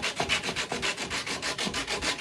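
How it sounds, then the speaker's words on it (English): A sanding block rubs back and forth along a dogwood arrow shaft in quick, even strokes, a close, soft, rhythmic scratchy hiss with no voices. "a sanding block, you hit all the high spots, and it'll keep the sandpaper off of the low spots"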